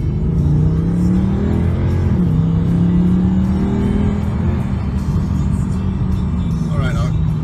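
A white 2012 Mercedes-Benz C63 Coupe engine revs and accelerates close by, a loud steady rumble with rising and falling pitch sweeps, continuous throughout and with no talk over it.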